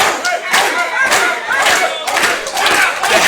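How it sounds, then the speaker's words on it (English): Wrestling arena crowd rallying behind a wrestler at an AMP Wrestling Christmas Rumble event, a loud, dense roar of cheering and shouting voices that keeps pulsing without a break. "as this crowd tries to rally and get behind the Hound Dog"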